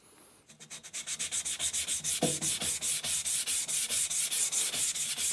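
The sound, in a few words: sharpening blade on diamond whetstone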